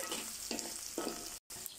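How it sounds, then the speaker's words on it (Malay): Curry leaves and green chilies frying with onions in a pan for a traditional fish curry, a steady loud sizzle with a few soft stirring scrapes and a very brief cut near the end. "sekarang saya nak masukkan daun kari dengan cabai hijau sekali ya"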